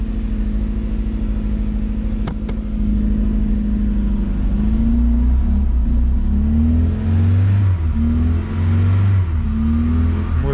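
The engine of a 1983 Volkswagen Voyage runs steadily at close range, a low mid-pitched hum that picks up slightly partway through with gentle rises in pitch, with no voices over it.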